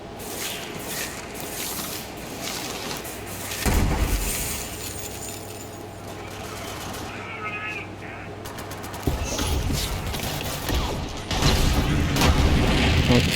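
Sniper rifle fire in Borderlands 3 from an M10 Amara Nimbus build, a few heavy booming shots spaced seconds apart amid clinking game effects and steady background noise.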